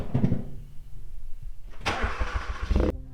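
A 2013 Hyundai Veloster Turbo with a custom axle-back exhaust cranks and fires up, a starter whir followed by a loud close catch and a rumbling settle into idle.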